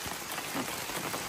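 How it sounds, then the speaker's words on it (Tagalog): Rain beginning to fall outdoors, a steady broadband patter of drops on surfaces that holds evenly through the short stretch with no voices. "Ulan na. Ulan na,"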